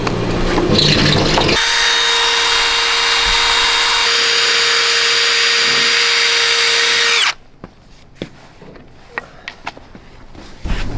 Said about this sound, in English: I just had to blow a hole saw through the deck